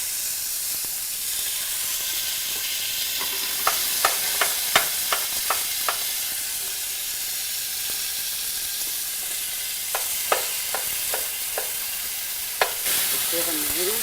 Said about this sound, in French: Là, je mets les tomates maintenant.